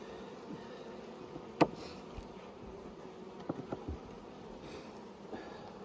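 Honey bees hum softly in an opened brood box during spring hive management, a faint steady drone broken by a few sharp handling clicks and knocks.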